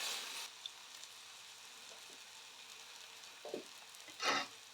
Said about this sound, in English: The paste is cooking out nicely now, starting to get little craters around.